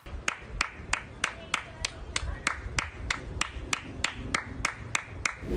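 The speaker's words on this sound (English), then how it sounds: "like Priyanka Chopra's awkward clap" Awkward, evenly spaced clapping, a regular series of about a dozen sharp claps in a steady rhythm over background sound.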